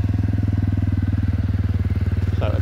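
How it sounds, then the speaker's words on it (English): An LXR SE motorcycle idles on its side stand, its engine giving a close, steady, rhythmic low thrum with even pulses throughout and a faint clatter near the end. "So a lovely little purr from this engine"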